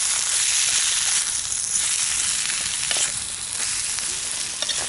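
Vegetables stir-frying in a pan over a Bushbox XL outdoor stove, a loud, steady broadband sizzle and hiss, close up, with occasional faint stirring scrapes beneath.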